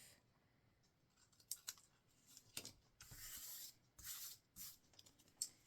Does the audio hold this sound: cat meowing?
no